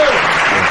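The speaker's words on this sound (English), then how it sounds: "Applause." Brief burst of audience applause at a talk-show taping, loud, dense and close, lasting under a second.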